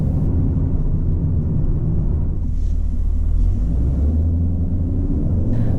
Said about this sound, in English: the exhaust sounds are out of this world